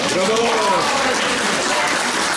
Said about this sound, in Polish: Także wielkie brawa dla uni Uniwersytetu w Gniewie.